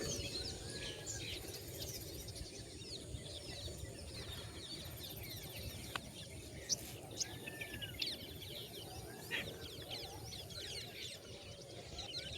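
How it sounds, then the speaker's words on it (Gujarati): Sparrows chirping at sunrise in a village, scattered thin calls and short tweets over a steady low background rumble, fairly faint and without talk. "ખાલી તમે ચકલાનો અવાજ સાંભળો"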